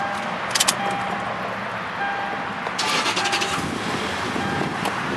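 A 2003 Toyota 4Runner engine, recently repaired after water damage and a fried ECU, runs after being switched on, a steady mid-loud hum with a brief rattle early on and a fuller rumble after a few seconds.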